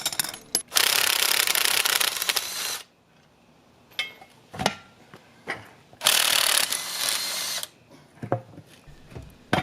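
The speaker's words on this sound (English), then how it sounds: "You know how I feel about rust, so out came the wire wheel." A wire wheel grinds rust off a van axle in two long, loud, harsh bursts, separated by pauses with clanks and knocks as the tool is repositioned.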